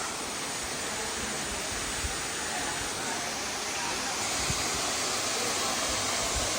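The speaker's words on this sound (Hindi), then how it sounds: "देखो ऊपर से झरना आ रहा" A waterfall pours from above into a deep pool on a hillside, giving a steady, dense broadband roar that stays loud and unbroken throughout.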